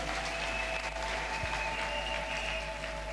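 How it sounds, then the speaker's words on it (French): A church congregation at a Friday worship service in Kinshasa applauds together for Jesus Christ. The clapping is steady, dense and continuous, filling the room without a break. "Acclamons pour Jésus-Christ."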